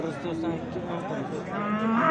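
Cattle, including cows sold with their calves, low and moo at a busy livestock market in Vobkent, Bukhara; one long, close moo rises over a steady market din, with faint voices behind.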